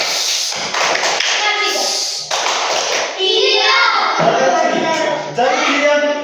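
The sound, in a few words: classroom clapping routine 'tepuk diam'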